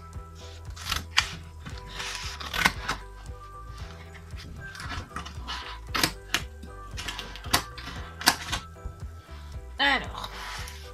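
Thick recycled paper is cut for bookmarks in short crisp snips and crunches, irregularly spaced and close, with a louder burst near the end and no speech over it.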